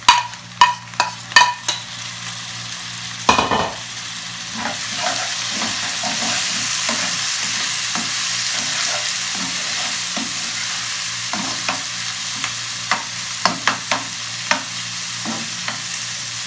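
Chopped tomatoes sizzle in a pan with lightly browned onions for Afghani Kabuli pulao, with a steady frying hiss under repeated scraping stirs of a spoon, loud and close, and no talking.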